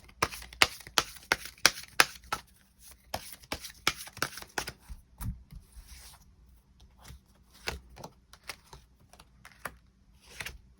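Tarot cards being shuffled and drawn during a reading: a rapid flurry of crisp card flicks and riffles at first, then slower slaps and slides as single cards are laid out. Close and quiet, with no talking.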